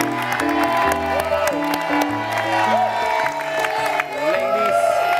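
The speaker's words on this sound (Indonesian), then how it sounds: "Boleh kita berikan tepuk tangan lagi." A studio audience claps and cheers on the Indonesian TV dating show Take Me Out Indonesia, dense applause with whoops under loud music, with a host's voice talking briefly over it.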